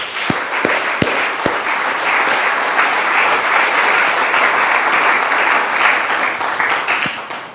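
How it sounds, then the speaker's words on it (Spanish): Loud, dense applause from a large church congregation fills the space steadily from start to finish, a few sharper individual claps standing out near the beginning and end. "Ahora dele un aplauso gigante a Dios."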